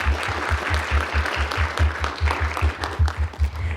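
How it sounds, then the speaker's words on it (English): An audience at a visiting writer reading applauds Raquel Salas Rivera, producing a short burst of close, lively clapping that holds steady for a few seconds. "One more round of applause for Raquel."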